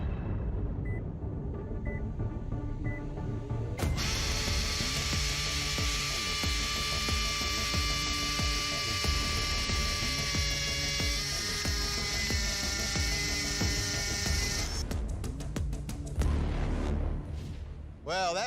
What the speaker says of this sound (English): a 1/4-inch masonry bit into a cinder block with Portland cement